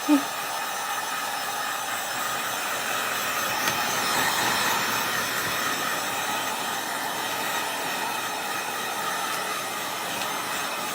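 A heat tool blows a continuous, steady whooshing hiss close by while drying craft paste on a Christmas craft kit project, running without talk.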